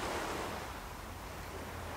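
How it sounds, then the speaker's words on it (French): Ocean waves wash steadily onto a shore as a continuous broadband surf roar, fairly close and unbroken for the whole stretch, with a slight swell at the start and no voices. "Tout en continuant à écouter le son de l'océan"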